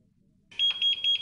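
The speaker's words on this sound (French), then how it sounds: "l'appareil émet un double bip pour indiquer une erreur" A Philips Rio laser epilator sounds a rapid series of short, high electronic beeps in evenly spaced pairs, close and clear, after a moment of silence.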